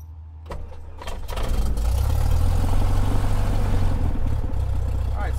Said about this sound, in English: Alright, so there the engine has started.